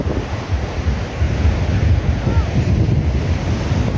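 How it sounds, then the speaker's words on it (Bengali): Sea waves roaring at a quiet, uncrowded beach near Puri, heard from the road, a low surging rumble mixed with gusty wind buffeting the microphone, loud and continuous with no speech. "এখানে একদম রাস্তা থেকে সমুদ্রের গর্জন শোনা যাচ্ছে"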